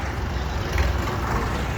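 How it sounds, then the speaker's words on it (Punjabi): A convoy of tractors in a rally near Ropar rolls past in a steady line, a continuous broad engine rumble and road noise that stays even and fairly loud throughout, with no voices. "ਟਰੈਕਟਰਾਂ ਦਾ ਕਾਫਲਾ ਪਹੁੰਚ ਗਿਆ ਬਾਈ"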